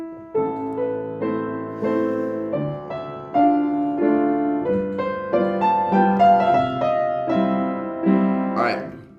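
Solo piano plays the opening line of Chopin's Waltz in A Minor with a pickup, a gentle flowing melody over waltz-time chords, close and clear with notes ringing, ending in a soft fade.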